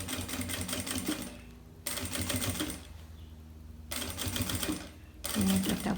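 A sewing machine stitches a zippered pocket for a fabric wallet in three loud, rapid bursts of mechanical chatter, separated by short pauses, with no talking.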